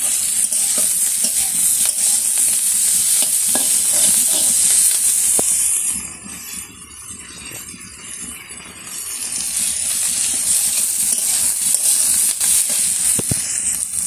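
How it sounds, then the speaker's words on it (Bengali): Onion stalks and potatoes frying in a pan, giving a loud, continuous sizzle and hiss with occasional stirring scrapes; the sizzle dips for a few seconds midway, then returns at full strength. "পেঁয়াজ কলি আলু ভাজাটা হয়ে গেছে"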